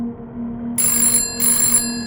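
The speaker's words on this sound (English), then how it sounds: "The phone rang again, once more, then silence." An old telephone rings indoors at night in two bright bursts separated by a short pause, clear and fairly loud over a steady low hum from old wiring.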